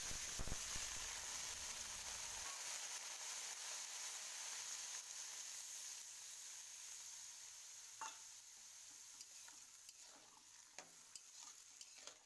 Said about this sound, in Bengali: এবারে সামান্য পরিমাণে জল দিয়ে দেব।